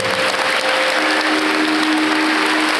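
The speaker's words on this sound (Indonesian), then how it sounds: "Tepuk tangan untuk kita semuanya by people." Thousands of students at an Islamic boarding school burst into loud, sustained applause, a dense wall of clapping filling the hall with a faint sustained tone running underneath.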